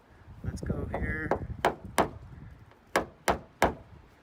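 Light metal taps from a hammer working out a dent in the panel of a 2017 Ford King Ranch, about five sharp close strikes spaced unevenly, following a stretch of speech.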